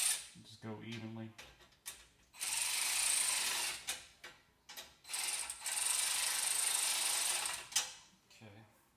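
A hand ratchet clicks in short, even bursts while snugging the exhaust mount bolts on a Ferrari 430, close by, with long gaps of quieter hiss between strokes.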